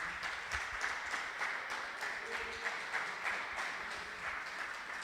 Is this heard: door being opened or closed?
no